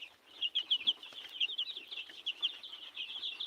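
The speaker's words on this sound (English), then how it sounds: "These are 2 weeks old chickens." Two-week-old chickens peep and cheep in a busy, continuous chorus of small high calls, close and moderately loud, with no talking.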